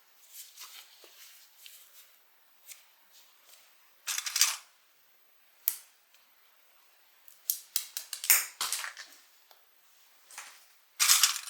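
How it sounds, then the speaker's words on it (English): Scissors snip off the excess zipper tape while sewing a small tote bag, making scattered sharp clipping bursts, some single and some in quick clusters, close up with quiet pauses between them. "Go ahead and clip the extra bit of zipper tape off."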